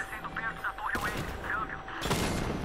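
Two sudden explosive missile blasts from the Batmobile in Batman: Arkham Knight, each a loud burst of noise, layered over warbling engine-like game sounds.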